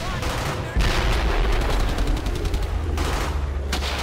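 Dense gunfire in the World War II shooter Brothers in Arms, a continuous rattle of rifle and machine-gun shots with sharp bursts, loud and close, under shouted voices.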